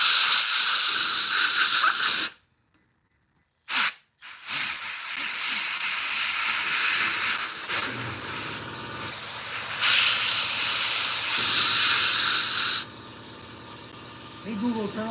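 Compressed air hisses loudly and steadily while blowing out a Craftsman 179cc 24-inch two-stage snow blower, with an air compressor running and a couple of abrupt cutoffs and restarts, then a quieter tail.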